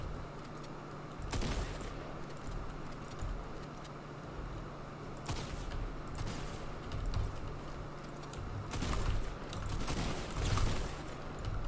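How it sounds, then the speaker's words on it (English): Gunfire in the Fortnite Battle Royale video game, several sharp shots and short bursts spread across the stretch over a steady game ambience, moderately loud with no talking. "Did I just get shot at? Yes, I did."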